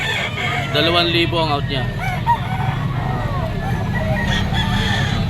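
SBR cross stag rooster of Verdugo bloodline crowing at a pet market, several drawn-out crows close by over a steady crowd murmur, with someone talking throughout.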